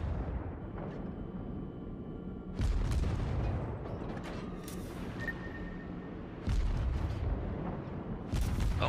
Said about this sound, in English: Those cannons were good.